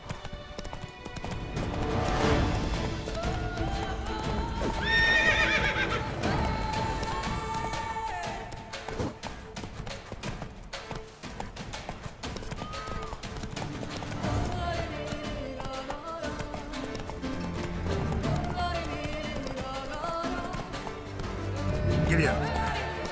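Horse hooves galloping in The Witcher 3, a continuous clip-clop rhythm with occasional whinnies over game music and ambience throughout.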